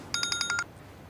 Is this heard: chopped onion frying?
no